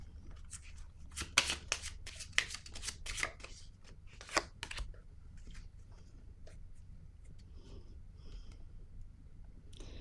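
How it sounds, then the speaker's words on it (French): Tarot cards handled on a table during a reading, with a run of crisp shuffling and slapping card sounds early on that fade to faint quiet handling, close and soft with no talking. "Ici, je vais déposer une carte."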